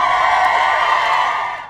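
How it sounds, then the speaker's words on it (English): A crowd on a golf course cheers and whoops after a shot on a nearby hole, a loud, sustained roar of voices that fades out at the end. "Oh, wait, I think I hear some people cheering."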